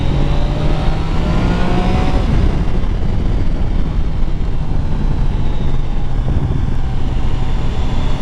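A Triumph Tiger 660 Sport motorcycle engine accelerating on a test ride, a loud, continuous engine roar with rising pitch and heavy wind rush, steady and close with no talking.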